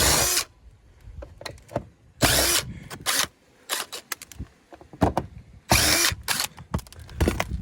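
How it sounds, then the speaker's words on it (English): A power drill backs screws out of a storm window during an insert window installation: repeated loud, close whirring bursts of varying length, separated by brief pauses and small clicks. "we're just going to go ahead and pop all these screws out and get this storm window out of here"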